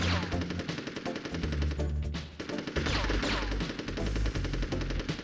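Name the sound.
enemy machine gun fire in the video game Army Men: Sarge's Heroes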